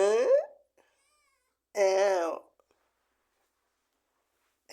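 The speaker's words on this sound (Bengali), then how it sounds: "ম্যাও ম্যাও।" A hungry cat gives two drawn-out, wavering meows, close and clear, separated by a pause of about a second and a half of near silence, with the start of a third sound at the very end.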